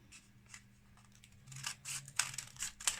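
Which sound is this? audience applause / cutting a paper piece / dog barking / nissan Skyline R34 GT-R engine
cutting a paper piece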